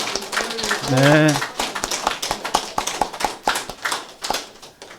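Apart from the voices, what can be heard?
congregation applauding in church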